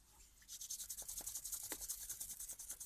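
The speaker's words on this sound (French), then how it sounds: "Je frotte mes mains, réchauffer les mains." Hands rub briskly together to warm them during a morning self-massage. The swishing friction is steady and rhythmic, close and fairly soft, with no talking.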